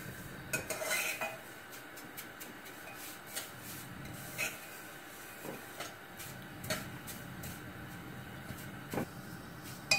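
Metal spoon scraping and clinking against a pan as vermicelli is stirred continuously while dry-roasting, a steady run of light taps and rubs close by with no talk.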